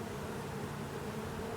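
Honey bees buzz around a Layens hive during a nuc transfer, a steady, dense hum that holds at an even level throughout with no talking.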